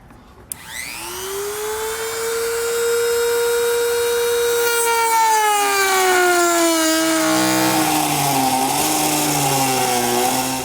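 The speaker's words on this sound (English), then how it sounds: "I'm just going to use a rotary tool with a plastic cutting blade." A rotary tool with a plastic cutting blade trims the rear bumper fascia of a 2020 Subaru for a hidden trailer hitch. The motor spins up to a loud, close whine, then bogs and shifts pitch as the blade cuts, with no talk.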